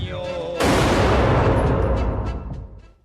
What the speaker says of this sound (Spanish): para empezar el combate al disparo de un cañón